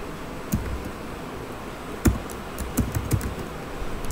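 Keyboard keys being pressed while CSS code is typed on a computer, a few scattered soft clicks and taps over a quiet room hiss, no talking.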